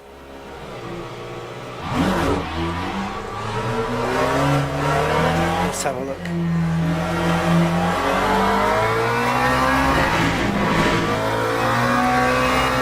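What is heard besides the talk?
car engine sounds in a sim-racing video game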